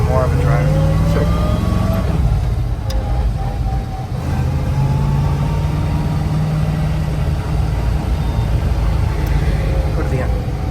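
A numbers-matching 1961 Chevrolet Corvette with a 283 cubic-inch 230 hp V8 and four-speed drives along, its low engine note steady and close, with a brief dip around the middle and voices speaking now and then.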